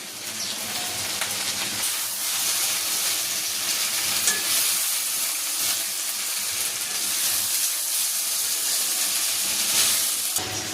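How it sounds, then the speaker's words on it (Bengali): Cabbage hisses and crackles as it is stirred and fried in a pan, a continuous bright sizzle heard alone throughout. "এ পর্যায়ে দিয়ে দিব সেই বাঁধাকপিগুলো। দু মিনিট মতো নাড়াচাড়া করে নামিয়ে নিব।"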